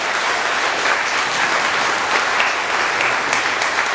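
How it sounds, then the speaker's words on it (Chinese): Congregation applauding in a church during a Taiwanese-language worship service, a loud, even wash of clapping sustained without break. "咱鼓掌，甲因鼓励哈。"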